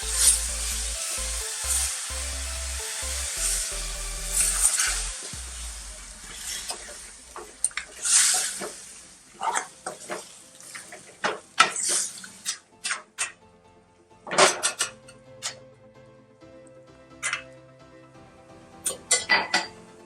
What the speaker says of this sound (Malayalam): അര ഗ്ലാസ് വെള്ളം ഒഴിച്ച് കൊടുക്കാം.